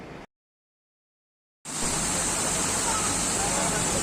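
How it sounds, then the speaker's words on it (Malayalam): Small waterfall of cold water pouring steadily, a dense constant hiss filling the last two and a half seconds after a short burst and a silent gap. "ഒരു ചെറിയൊരു വാട്ടർഫോൾ കണ്ടു"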